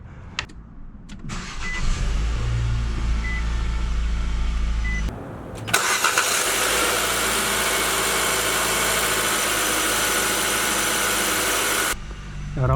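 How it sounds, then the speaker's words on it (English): A Nissan Sentra with a CVT engine cranks and starts, then settles into a steady, fairly loud idle, with a brief drop in sound before the engine catches. "Vamos a prender el carro ahora."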